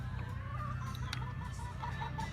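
Chickens cluck softly and repeatedly close by in a backyard coop, steady low murmuring over a constant background hum.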